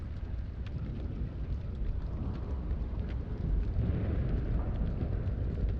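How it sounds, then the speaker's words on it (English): Steady dense patter of hail falling in the game Subnautica Below Zero, a continuous rough rumbling wash of impacts that swells slightly louder toward the end, with no voices. "Is it hailing? I think that's hail."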